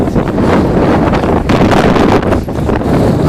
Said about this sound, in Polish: bo wieje wiatr